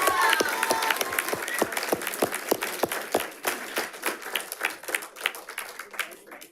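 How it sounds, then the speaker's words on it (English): School board meeting audience applauding high school students, with many hands clapping close and loud, some whoops and crowd voices, thinning into a few distinct, rhythmic claps that slowly die away. "Let's give them a round of applause."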